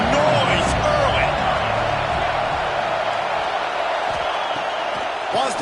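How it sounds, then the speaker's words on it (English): A packed stadium crowd at a night NCAA college football game between Ole Miss and Washington gives off a steady, dense roar throughout, with indistinct voices mixed into the wash of noise. "This crowd bringing the energy and noise early."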